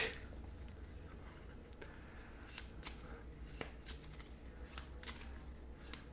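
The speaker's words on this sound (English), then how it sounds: "Shuffling them back into the deck." Cards from the Atlantis Rising board game are shuffled back into the deck by hand, making soft, faint riffling and light ticking at close range with no talking.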